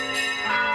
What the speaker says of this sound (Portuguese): a gente escuta somente os sinos